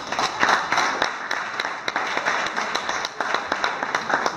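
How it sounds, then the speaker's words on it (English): Wedding guests applaud at an evening reception, a dense wash of hand claps sustained evenly throughout, moderately loud with a few sharper individual claps standing out. "a round of applause for these guys"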